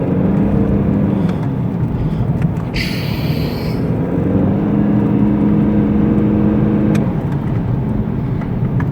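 A BMW 320 with a 2.0 engine drives steadily into a turn, its engine droning loud and close with a continuous hum; a brief higher-pitched whine rises partway through.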